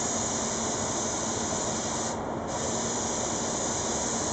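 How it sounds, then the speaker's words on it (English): A spray gun lays lacquer onto a Les Paul guitar body during finishing, giving a steady, close, unbroken hiss that continues for the whole stretch. "So Freddy sprays just the right amount to get the coverage onto the surface, but not too much"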